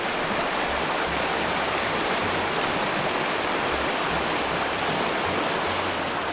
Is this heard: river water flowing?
yes